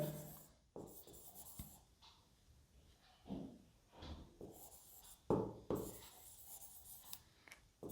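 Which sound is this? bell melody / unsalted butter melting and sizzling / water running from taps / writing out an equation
writing out an equation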